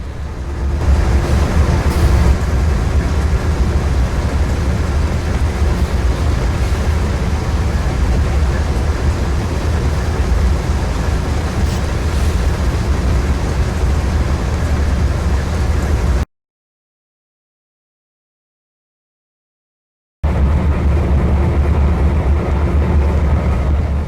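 A simulated train in a rail video game rumbles with a steady, loud engine drone and track noise, broken by a few seconds of silence before resuming.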